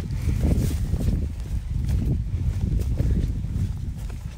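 Dull, heavy hoofbeats thud in an uneven rhythm as several horses approach across soft ground, close by and fairly loud.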